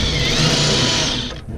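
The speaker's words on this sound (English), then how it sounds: "9/16 socket in the gun on the top" Air impact gun with a 9/16 socket spinning off the top nut of a sway bar link on a 2002 Dodge Ram Van 1500 with a 5.2 V8, a steady loud whirring rattle that runs about a second and a quarter before cutting off.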